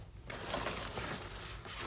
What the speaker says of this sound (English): The zippers.